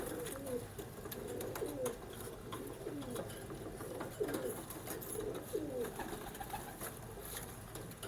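A pair of teddy pigeons cooing in a small cage, soft repeated rolling coos at a steady rhythm, close by over a constant low background hiss, no voices.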